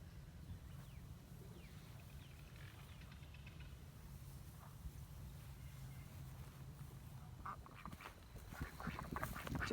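Ducks quack intermittently at a distance over a low outdoor rumble, the calls growing a bit busier and louder toward the end.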